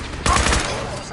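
Burst of gunfire in the video game Fallout 4, a sharp loud onset followed by a rapid cluster of shots that decays into a lingering tail.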